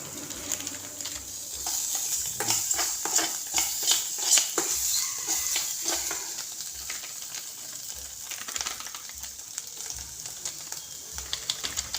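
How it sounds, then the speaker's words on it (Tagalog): Burger steak sautéing in a pan, a steady bright sizzle with repeated stirring and scraping clicks of a utensil against the pan, close and continuous with no talk. "gisahin lang natin ng mga 10 to 5 minutes"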